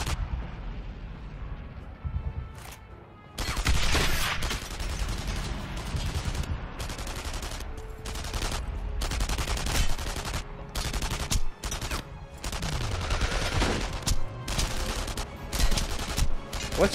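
Gunfire in the World War II shooter Enemy Front during the fall of Warsaw, with loud bursts of shots and heavy booming blasts crashing in repeatedly over a dense battle din after a quieter opening.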